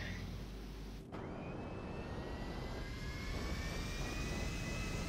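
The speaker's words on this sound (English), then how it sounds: "let's go and get straight into the aircraft, and we will continue our adventures" Aircraft jet engine in GTA 5 Online, a loud continuous roar with rising whine, preceded by an abrupt shift after a second as the engine sound takes over and holds steady.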